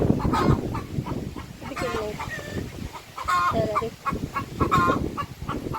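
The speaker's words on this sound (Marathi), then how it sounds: "कोंबडी ओरडली की त्याला वाटते कोंबडीला पकडायला जायची" Hens and a rooster cluck repeatedly in a farmyard, a busy, overlapping run of nearby squawks and clucks with short harmonic calls rising out of the flock noise.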